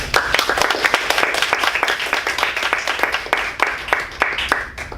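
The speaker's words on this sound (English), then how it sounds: "Give yourselves a round of applause, please." Audience at a Toastmasters club meeting claps through an opening address, a dense, steady patter of many hands with sharper individual claps standing out, sustained and fairly loud.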